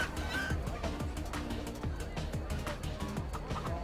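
Chickens cluck in the video game Minecraft: Story Mode, the fowl calls mixed into a busy game soundtrack while someone talks over them throughout.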